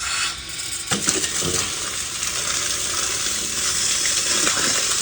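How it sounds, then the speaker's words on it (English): Water rushes steadily through a two-way garden hose splitter with a connected hose, a continuous broad hiss of flow that stays loud and even throughout, with a couple of brief clunks early on. "Now let's turn on the water."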